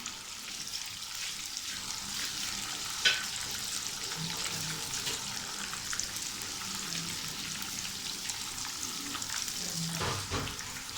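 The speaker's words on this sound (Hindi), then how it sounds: "अब इसको मैं 2-4 मिनट के लिए तवा गरम करके उसके ऊपर रखती हूँ।" Fried fish pieces sizzle on a hot tawa griddle in a steady, close hiss, with a few light clinks and scrapes breaking through now and then.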